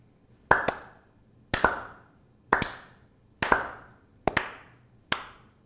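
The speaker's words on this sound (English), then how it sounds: "Well done. Slow clap worthy." A slow clap of six deliberate, evenly spaced double-struck claps about a second apart, close and crisp in an otherwise quiet room.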